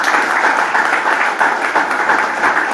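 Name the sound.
audience applause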